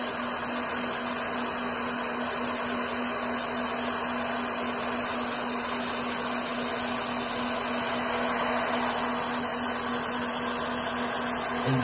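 A Bridgeport knee mill takes a light finishing pass of about a thousandth of an inch, milling a square part round. It gives a steady, even machining whir with a constant hum, continuous and fairly loud, with no talking.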